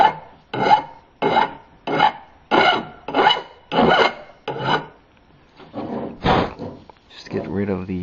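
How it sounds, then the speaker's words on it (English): Metal file rasping across the burred edge of freshly cut steel tubing: about eight steady, rhythmic strokes up close, then a brief pause and a voice speaking. "Now I just take my file and clean that up a little bit."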